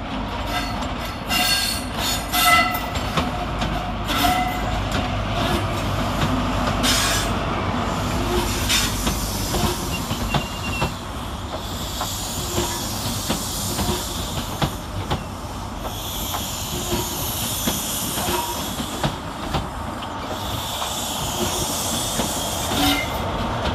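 ScotRail service from Aberdeen with power cars 43179 and 43148 arriving at Edinburgh Waverley station, a steady rumble of wheels with hiss, squeals and rail clatter, close and continuous.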